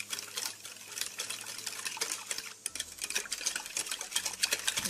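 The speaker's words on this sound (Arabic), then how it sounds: "وغادي نكمل التخلاط" Soft repetitive scraping and tapping of a utensil stirring thick cake batter in a bowl, close by, with a low hum underneath.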